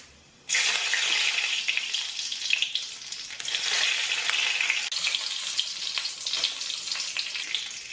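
Curry leaves and mustard seeds sizzle in hot oil while a taro leaf thoran is cooked. A loud, steady frying hiss starts abruptly after a brief quiet moment and crackles on without pause. Nobody speaks.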